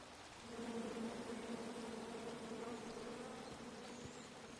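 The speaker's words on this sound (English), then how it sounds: "Come at me, bees!" Angry bees buzzing in a video game, a steady dense drone with a lower hum band that swells in after the first half second and holds loud and continuous throughout.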